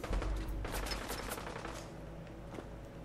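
Pipe rifle gunfire in the video game Fallout 4, a quick burst of several shots at the start, fading into a low rumbling tail, with no talk over it.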